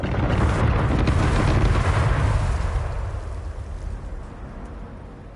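Rumbling explosions from the video game Satisfactory, a loud sustained booming roar that slowly fades over several seconds, heard alone without talk.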